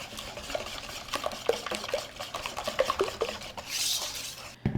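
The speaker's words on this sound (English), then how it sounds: "Then you just want to whisk that until it's well blended." Peanut butter and vanilla extract are whisked in a bowl nearby, giving irregular soft clicks and scrapes against the sides, with a brief wetter swish near the end.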